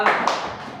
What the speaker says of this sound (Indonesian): Bagus, tepuk tangan.